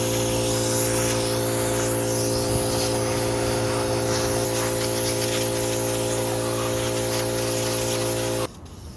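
An aerosol can sprays light primer coats onto 1978 Datsun 280Z engine parts, giving a close, continuous hiss over a steady buzzing background hum that cuts off abruptly near the end.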